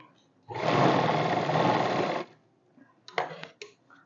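A sewing machine stitches a kurti in a bout of fast, even whirring lasting under two seconds, followed by two short bursts of stitching, close and loud with no voice over it.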